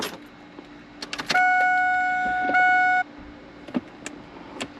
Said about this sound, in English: Cycle the ignition.